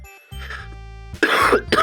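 Two harsh coughs close up, the first brief and the second a longer raspy burst, after a short hum and faint tone.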